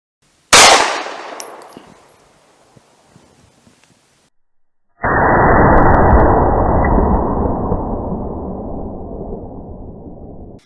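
A Winchester Silvertip 9mm round is fired from a Sig P365 into ballistic gel: one sharp, loud shot that rings and decays over about a second, then a few seconds of near silence before a long, loud, rumbling roar.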